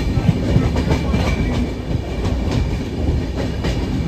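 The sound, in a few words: train running on the rails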